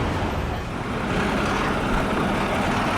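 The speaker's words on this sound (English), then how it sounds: "There's a Volvo truck." A Volvo fire truck of the Dublin Fire Brigade pulls away from the station with a loud, deep, steady engine rumble, close by and continuous, with no voices over it.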